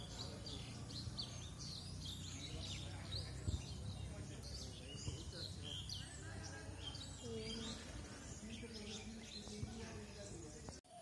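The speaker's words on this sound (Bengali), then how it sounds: "যেমন পাখির কিচিরমিচির শব্দগুলো।" Many small birds chirp and twitter on a foggy October morning near a college campus, a steady busy chorus of high calls over a low background rumble.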